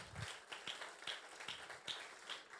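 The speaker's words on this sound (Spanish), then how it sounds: "Dale un fuerte aplauso al Señor." A church congregation claps in steady rhythmic beats, evenly spaced, faint and distant, with no voices over it.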